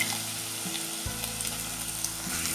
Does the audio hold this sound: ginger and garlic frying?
yes